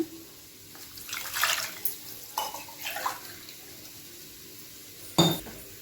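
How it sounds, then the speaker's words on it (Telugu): Water poured into a cooking pot for paneer dum biryani, in several short splashing bursts with brief metallic clinks, fairly quiet and close, no talk. "ఇదిగోండి 5 గ్లాసులు నీళ్ళు వేసుకున్నాం."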